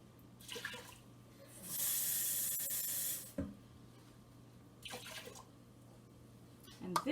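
Water poured into an Instant Pot for cooking lentils and wheat pearls with spices, a steady hissing stream lasting about a second and a half, with faint splashes and soft handling noises before and after.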